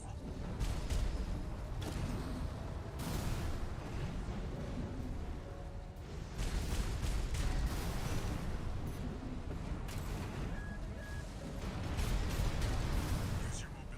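Explosions rumble and burst repeatedly during mecha combat in Armored Core VI, heavy booms and blasts layered over a continuous roar of engines and gunfire, loud and dense throughout.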